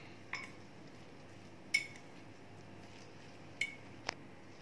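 A spoon mixes egg and mayonnaise in a bowl for an egg sandwich, making four sharp, sparse clinks against the bowl over a quiet, faint background.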